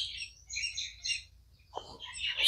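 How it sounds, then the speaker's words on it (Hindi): Small birds chirp and tweet in quick bright bursts in a quiet forest, several calls overlapping at a moderate distance, with near silence between them. "हर तरफ बिल्कुल शांति, चहूं और सिर्फ पक्षियों की आवाज"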